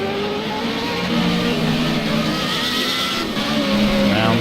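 Formula Renault 3.5 race car on a flying lap at the Catalunya circuit, a sustained high-pitched engine note that rises and shifts steadily through the corners, continuous and fairly loud.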